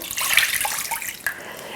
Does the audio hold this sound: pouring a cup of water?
yes